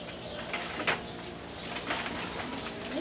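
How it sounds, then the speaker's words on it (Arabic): Pigeons coo softly in low, rolling murmurs, with a few throaty calls rising over a quiet background. "اسمع واتفرج على الحمام"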